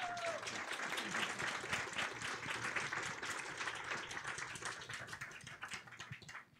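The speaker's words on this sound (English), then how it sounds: "Can we have a nice round of applause for our panel?" An audience at a philanthropy conference session gives a panel a sustained round of applause. Dense, steady clapping fills the hall for several seconds and fades slightly toward the end.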